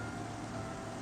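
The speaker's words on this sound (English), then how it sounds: "there's a lot of acid in that rain" Steady acid rain falls in the video game Final Fantasy XIII, a faint, continuous hiss of drops with no breaks and no voices.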